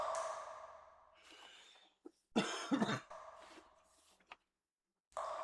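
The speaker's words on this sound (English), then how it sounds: "Again, I'm sorry for the coughing." Repeated coughing, close and fairly loud, in several bursts with short pauses between them and a brief silence near the end.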